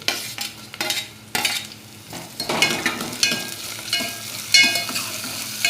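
Garlic and tomato sizzle in oil in a pan while a utensil stirs and scrapes, giving soft crackling frying under repeated clinks and scraping strokes, close and moderately quiet.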